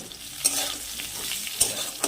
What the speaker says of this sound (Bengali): এই যে নামানোর একটু আগে কপিগুলো ভেজে নিলাম নুন দিয়ে নিলাম